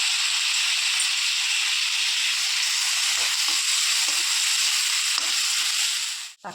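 Ginger-garlic paste frying in a pan for a Kerala chickpea curry, a steady close sizzle with soft scrapes of stirring throughout, fading at the very end.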